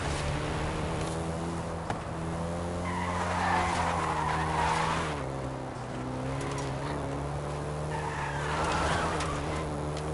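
A Volkswagen Golf GTI in the Forza racing game lets out long tire squeals over a steady engine drone, with the skidding swelling twice, loud and close.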